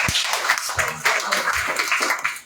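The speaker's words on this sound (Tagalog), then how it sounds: "Palakpak na mga tunay na anak ng Diyos." A Sunday service congregation claps together, a brisk burst of many hands with a few sharper individual claps standing out, loud and close throughout.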